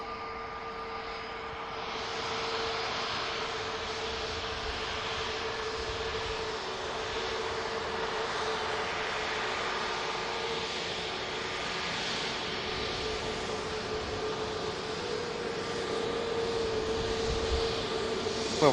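KLM airliner arriving at Manchester Airport from Amsterdam Schiphol, a steady loud jet engine roar with a sustained whine, holding level and constant with no break, no voices.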